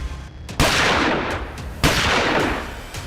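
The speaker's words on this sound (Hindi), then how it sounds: "एक भगवाधारी युवक ने मंदिर के दर पर पूजा करने की बजाय खड़े होकर धुआंधार फायरिंग की।" Two loud gunshots ring out in the open outside a temple in Lucknow during Diwali, each a sharp blast followed by a long rolling echo, spaced about a second apart, with no voices.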